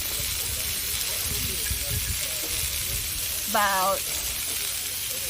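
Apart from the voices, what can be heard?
hoisin and soy marinated beef skewers sizzling on the grill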